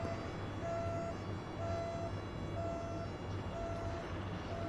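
A police car siren in the Train Sim World 2 railway game wails in a faint, regular two-tone pattern in the distance, under a steady heavy rumble of train and engine noise.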